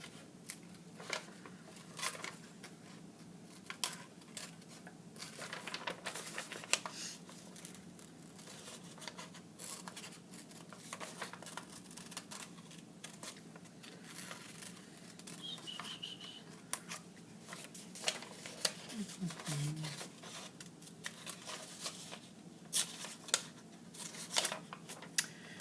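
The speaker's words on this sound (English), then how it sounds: "All drawn, and we just have to cut them out." Scissors cut drawn paper characters out flat on a craft table, giving repeated soft snips and paper rustles at close range that come in irregular bursts over a quiet background.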